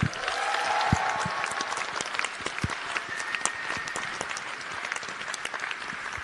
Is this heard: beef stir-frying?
no